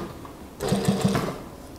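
A sewing machine runs in a short burst of rapid stitching along the button placket of a long-sleeved koko kurta, close and fairly loud, then stops.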